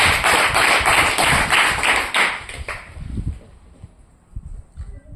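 A church congregation claps loudly in fast, steady rhythm for a few seconds, then the applause thins and fades, leaving scattered faint taps.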